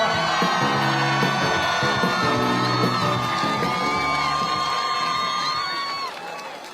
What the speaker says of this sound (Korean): 여러분, 큰 박수 한번 보내주시겠습니까?